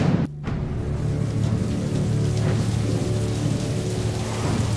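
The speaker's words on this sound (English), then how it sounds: "It's raining inside a tomb?" Rain falling inside a tomb in the video game Hand of Fate, a steady hiss of rainfall with a low rumbling hum underneath after a brief dip in sound at the start.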